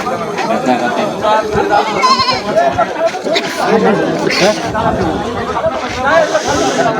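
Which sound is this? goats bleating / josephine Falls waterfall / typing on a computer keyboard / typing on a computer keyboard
goats bleating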